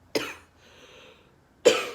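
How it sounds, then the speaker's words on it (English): Two separate harsh coughs from one person, close and loud, with a quiet pause and faint murmur between them. "I've been coughing a lot recently"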